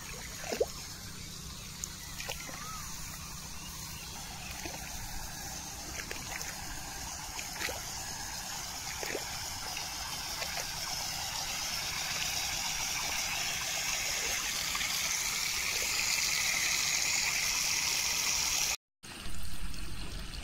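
Water flows steadily along a farm field channel toward lower ground, a continuous close trickling and gushing wash with occasional small splashes, and no voices.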